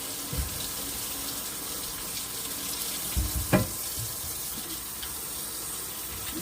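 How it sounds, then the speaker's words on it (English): Canned black beans being rinsed under a running kitchen tap: steady close water flow with a few louder splashes and clunks partway through, no talking. "So you just want to rinse them."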